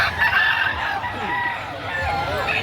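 Chickens clucking and a rooster crowing nearby, with people talking over the birds in a busy outdoor chicken sale.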